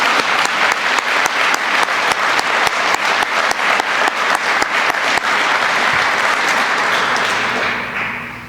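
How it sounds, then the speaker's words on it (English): An audience at a fire academy recruit class graduation gives a sustained round of applause for the instructors, dense, loud and continuous before it tapers off at the end. "let's give these instructors and all that they represent another round of applause for your great work"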